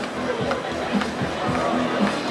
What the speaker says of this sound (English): This Swiss crowd loving watching Sascha